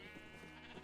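A Minecraft sheep lets out a single short, quavering bleat, faint and close, alone with no talk.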